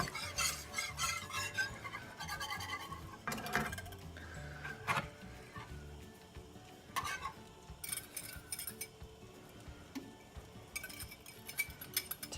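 A metal whisk scrapes and clinks against a metal pan while stirring sauce, producing irregular bursts of bright scraping and rattling strokes at close range with brief pauses between.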